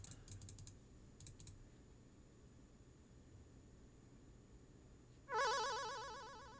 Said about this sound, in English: I'm pressing all the keys and nothing's working